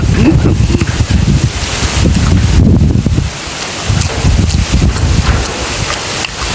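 Strong wind gusts buffet the microphone in a rural outdoor setting, producing loud, rough, fluctuating rumbling that eases briefly mid-way before picking up again.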